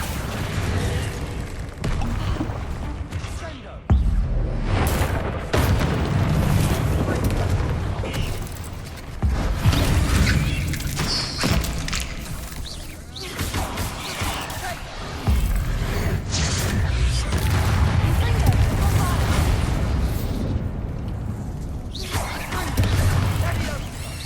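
Spell explosions from Confringo and Bombarda burst repeatedly in the wizarding game Hogwarts Legacy, loud booming hits scattered through continuous combat noise while a voice speaks over the fight.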